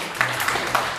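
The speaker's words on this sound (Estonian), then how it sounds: "aplaus ei lõppe" Sustained applause from an audience for the jury members at an evening event, a dense steady wash of many hands clapping with no break.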